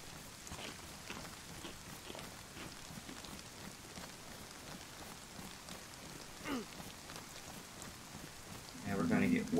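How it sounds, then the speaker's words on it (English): Steady rain falls in the DayZ video game, a soft, continuous patter spread evenly throughout, with a few slightly louder moments near the end. "I can't wait any longer for this rain to let up"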